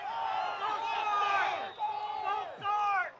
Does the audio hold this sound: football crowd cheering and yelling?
yes